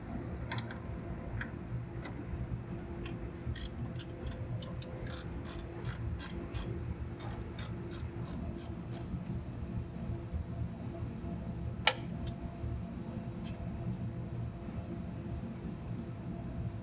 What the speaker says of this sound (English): there's going to be two more bolts right here, and just use a regular socket on it without an extension.